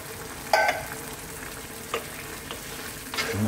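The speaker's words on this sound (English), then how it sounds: "Now I'm going to just put in 1 can of coconut milk." Vegetable curry with turmeric and spices sizzles and bubbles in a pan after a can of coconut milk goes in, a steady soft frying hiss with a few brief louder stirring clatters.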